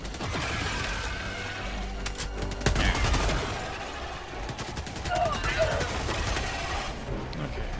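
Rapid gunfire in the video game Helldivers 2, with repeated volleys of automatic shots and mechanical clatter, loud and close, under ongoing voices talking over the action.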